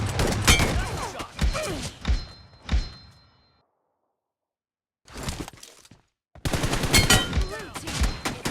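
Shotgun and M416 rifle fire in the mobile game PUBG Mobile comes in loud close bursts of rapid shots, cut by a sudden silence and then a dense stretch of continuous gunfire.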